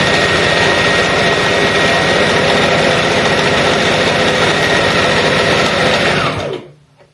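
A sewing machine runs steadily through a straight stitch on an abaya, a loud, fast, even mechanical whir that carries on without pause before cutting off abruptly near the end.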